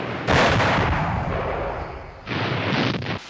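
Heavy artillery bombardment with gas shells, a dense roaring barrage of booms and rumbling blasts that swells loudly, eases off, then surges again before cutting out.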